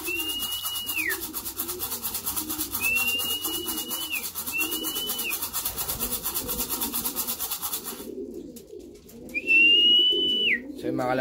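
Domestic pigeons at a loft coo in repeated low, throaty bursts throughout, with a few rising whistles and a steady rustling hiss; the hiss drops out near the end while the cooing continues.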